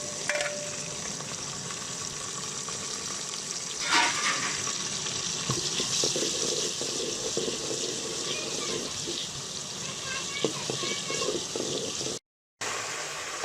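Onions cooking in a pan with green chili, tomato and ginger-garlic paste added for aloo matar chicken, giving a steady, close frying sizzle with watery hiss and occasional stirring scrapes throughout, no talking.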